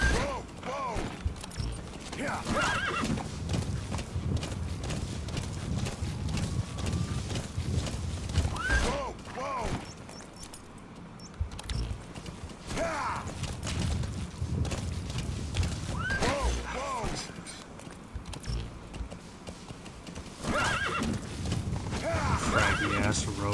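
In the Metal Gear Solid V video game, D-Horse gallops with a steady rapid hoof rhythm, and several loud whinnies break through at intervals over the running.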